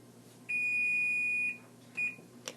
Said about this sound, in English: my oven starts to beep